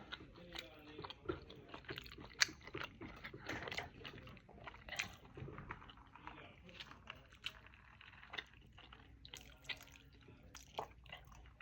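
Someone eating taco salad chews with quiet, irregular crunches and moist bites, faint and close up.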